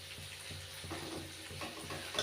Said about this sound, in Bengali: ভাজা হালকা লঙ্কাগুলো একটু নরম হয়ে এসছে